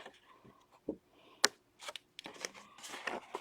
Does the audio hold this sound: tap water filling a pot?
no